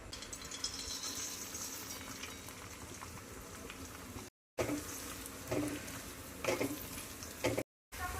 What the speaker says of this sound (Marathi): सो पहिल्यांदा आपण मटकी भाजून घेऊयात तर मी याच्यामध्ये तेल टाकले आणि सगळी मटकी टाकायची